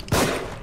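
A single close gunshot from The Evil Within game, a sharp loud blast followed by a brief fading rumble.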